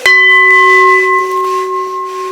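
A meditation bell struck once, its clear tone ringing out with steady harmonics and slowly fading over a long sustain, alone with no talk.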